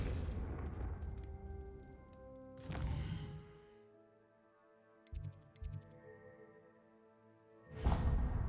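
Spell blasts from Confringo and Incendio in Hogwarts Legacy burst out as a few booming impacts with whooshing flares, separated by ringing, fading musical tones.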